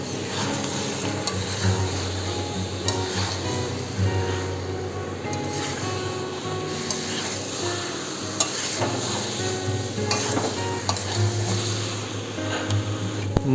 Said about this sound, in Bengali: মাংসটা ভালো করে কষানো হয়ে গেছে